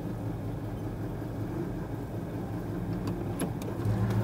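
A 1965 Ford Ranchero's engine runs steadily at idle as it is shifted into reverse, with a low, even drone, a few faint clicks late on, and no talk over it.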